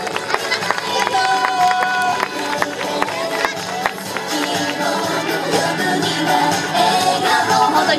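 An audience claps again at a stage event at a baseball team's fan square, dense clapping mixed with crowd noise, music tones and scattered voices throughout.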